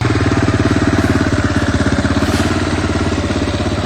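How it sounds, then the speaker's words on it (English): A KTM motorcycle engine idles up close, loud and steady, with an even thumping pulse and a slightly rattly, clattery edge. "When I first bought the bike, it sounded like this."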